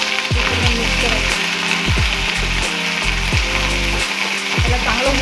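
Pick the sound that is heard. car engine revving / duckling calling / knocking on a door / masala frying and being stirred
masala frying and being stirred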